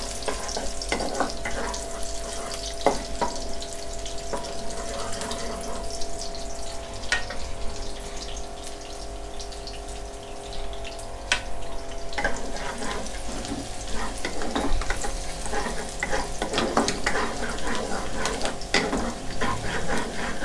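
Sliced garlic frying in a pan before pork belly goes in for a stir-fry, a continuous close sizzle with occasional stirring scrapes and clinks throughout, with no voices.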